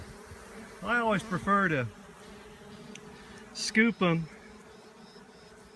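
A small honeybee swarm being caught hums in a low, steady buzz throughout, with someone talking over it in two short bursts.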